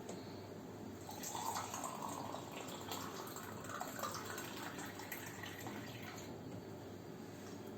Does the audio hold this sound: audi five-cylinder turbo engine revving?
no